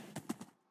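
Horse hooves clip-clop in Minecraft, three or four close, evenly spaced thuds that fade toward the end, with one more step at the very end.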